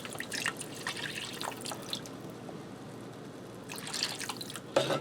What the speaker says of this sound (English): And I'm going to add in 2 cups of vegetable broth.